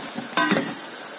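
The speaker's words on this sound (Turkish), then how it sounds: "Doğramış olduğum mantarlarımı da ilave ettikten sonra tekrardan karıştırma işlemini" Caramelized lamb and mushrooms being stirred in a pot, giving a brief scraping, sizzling stir in the middle of a quiet frying background.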